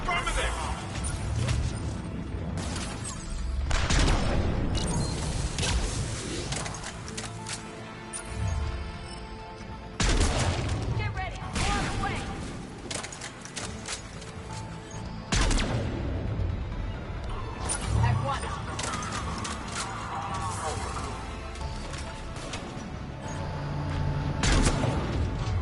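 Gunfire from the Mass Effect 3 Legendary Edition video game, with repeated loud bursts and booms layered among explosions and game sound, while a voice talks over the action.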